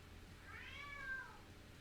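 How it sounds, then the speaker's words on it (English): A house cat gives one faint, drawn-out meow in the background, rising and falling over about a second against quiet room noise. "You guys hear my cat meowing in the background?"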